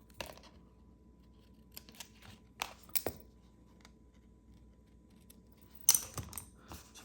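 Scissors snip ribbon ends at a card-making table in a few quiet, sharp cuts spaced across a hushed room, with one louder snip near the end.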